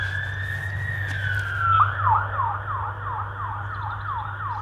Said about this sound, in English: That's a good point actually, that siren there.